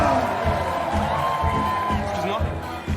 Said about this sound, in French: Les applaudissements pour la rue du Bac.